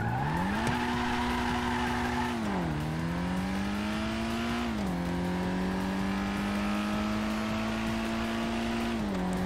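A stock Dinka Blista Kanjo in a racing video game accelerates hard from a standing start, its engine climbing through several gear changes with rising and dropping revs, loud and close, with tire squeal and no talk.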